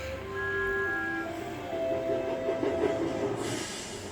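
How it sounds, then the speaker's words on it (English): A steam locomotive labouring uphill, with a steady rumbling chug, rail noise and a few sustained whistle-like tones near the start, moderately loud and heard alone without talk. "This engine is travelling uphill. It's going to need plenty of steam."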